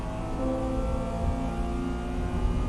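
An engine revs hard at around 7,000 RPM, a sustained, dense, steady roar with strong harmonic hum, loud and close with no pause.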